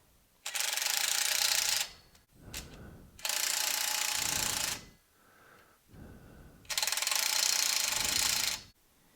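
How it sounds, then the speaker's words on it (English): Bolts being tightened on a Tracker 600 ATV brush guard, heard as three long, loud bursts of buzzing mechanical rattling, like a ratchet or power driver, close up with quiet gaps between. "Once you've got the bolts started, you can go ahead and tighten them up completely."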